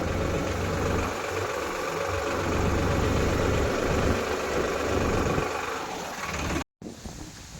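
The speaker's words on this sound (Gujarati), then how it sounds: "ટ્રેક્ટર હાલશે પાછું" A tractor with a loose bearing and a detached steering assembly idles with a steady, rumbling low drone close by, then cuts out abruptly for a moment near the end before a quieter, rougher sound resumes.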